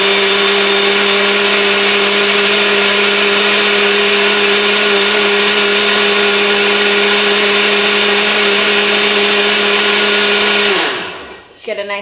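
Blender running on high to mix a piña colada, a loud continuous motor whine with steady pitch for about eleven seconds before it cuts off abruptly and spins down.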